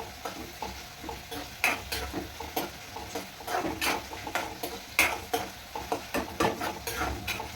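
Onions fry in a pan over a high gas flame, a steady crackling sizzle broken by repeated scraping and clinking of a utensil against the pan as it is stirred, close and fairly loud, with no talking.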